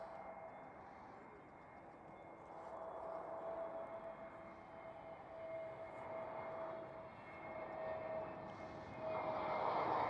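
An EasyJet Airbus A320neo arrives at Schiphol, its steady engine drone carrying a thin whining tone and swelling louder toward the end as the jet draws nearer.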